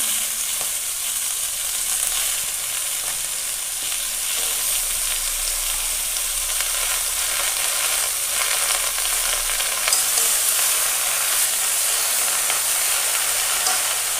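Pumpkin greens go into a fish curry with green chillies frying in the pan and are stirred, giving a steady, close, loud sizzle and hiss with faint scraping throughout and no talking.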